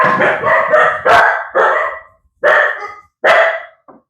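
A dog barks loudly and close, a rapid burst of several barks followed by a few spaced single barks.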